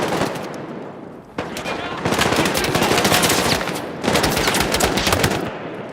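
Rapid machine gun bursts in the video game Battlefield 6, loud and close, with dense fast gunfire in several long bursts separated by short gaps.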